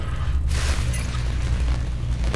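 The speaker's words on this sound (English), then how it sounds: "That's a gunshot." A gunshot in the video game Watch Dogs 2 cracks out as a loud, booming burst over a steady low rumble, with a second sharp report near the end.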